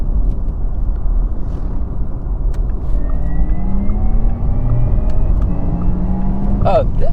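A Porsche Taycan 4S electric car accelerates with a steady low road rumble and rising motor whine, a faint tonal sweep climbing then briefly breaking, with people talking over it inside the cabin.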